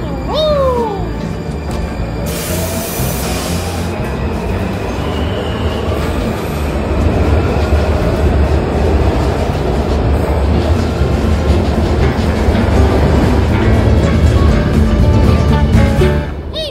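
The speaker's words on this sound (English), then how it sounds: "I'm going straight to Largo, so I'll wait for the next train." A Washington Metro train pulls into a station with a loud, steady rumble and wheel noise that builds over many seconds, a brief hiss early on, and faint voices in the background.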